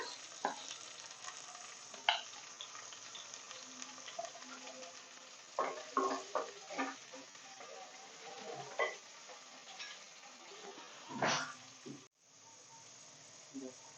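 Onion and tomato sizzle in a curry-leaf tempering in a pan for an Agri Koli-style vegetarian thali, a low steady fry broken by sharp spoon-scraping stir clatters, with a voice talking over it.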